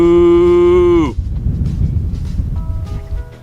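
A cow gives one loud, long, close moo lasting about a second, then a quieter stretch of low outdoor rumble and wind while another animal or voice sounds faintly toward the end.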